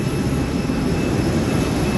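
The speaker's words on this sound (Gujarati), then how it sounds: "આ આપણું વિમાન આવી ગયું છે." Airplane at an airport, a loud steady jet engine roar filling the space, constant and close with no voices.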